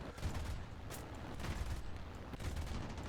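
Cannon and machine gun fire from a P-400 fighter plane in the War Thunder combat flight game, a dense, continuous rattle of rapid shots with a few heavier bursts standing out, loud and close, with no talking.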